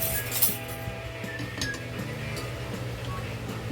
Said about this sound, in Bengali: এখন একটা আমি চামচ দিয়ে একটু নাড়িয়ে আপনাদেরকে দেখাবো